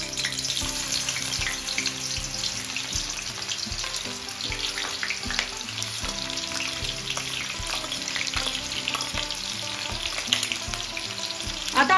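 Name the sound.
onion frying in oil in a kadhai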